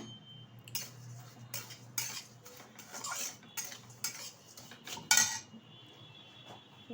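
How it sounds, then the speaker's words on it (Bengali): Crushed vermicelli is poured into ghee in a pan over low heat and stirred, giving repeated clinks and scrapes of a utensil against metal with a faint frying hiss beneath, close and intermittent. "এখন আমি এখানে ঢেলে দেবো সিমুই। সিমুইটা কিন্তু হাত দিয়ে গুঁড়ো করে নিয়েছি আমি। হালকা আঁচে ভেজে নেব।"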